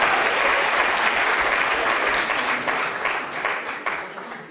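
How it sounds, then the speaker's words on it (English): A lecture-hall audience at the London School of Economics breaks into loud, dense clapping that holds steady, then begins to thin and fade toward the end. "Guys, I want you to clap if you're up for"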